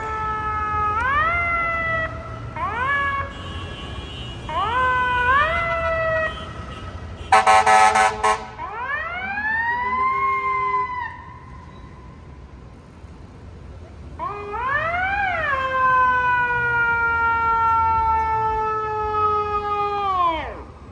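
FDNY fire engines arriving for a third-alarm fire, their sirens rising and falling in loud repeated wails, cut midway by a sharp blast of air horn, then a long, strong siren sweep as the units pass close by.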